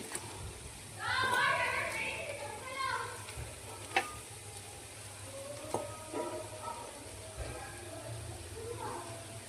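Clam meat (kakka fry) sizzles quietly in a pan, with a steady low fry broken by occasional stirring and utensil clinks, and a voice talks briefly over it.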